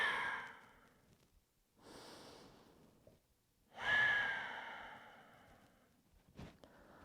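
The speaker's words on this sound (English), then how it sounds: "It deserves a big breath." Two slow, deep breaths are taken during a big yoga stretch, each a long audible airy exhale close to the ear, separated by quiet, with a faint rustle at the end.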